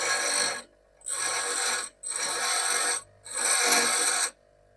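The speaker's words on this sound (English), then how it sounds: "So now we've got a grindstone. Okay. So brilliant. The grinder's working." A restored old grinder runs its grindstone in four bursts of harsh rasping grinding, each about a second long and separated by short silent gaps, close and fairly loud.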